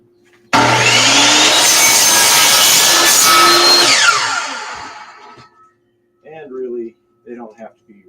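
A power saw cuts through wood corners, a loud, continuous rasping whine that lasts several seconds before winding down. Brief speech follows after it stops.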